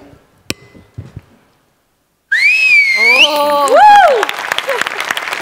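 A comedy show's studio audience erupts after a quiet pause, loud shrill whistles cutting over a burst of clapping and crowd noise.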